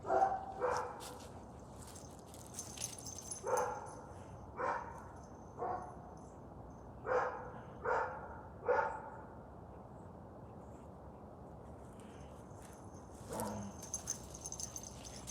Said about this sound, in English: the dogs were barking for some reason